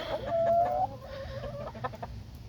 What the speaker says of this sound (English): And that's my rooster.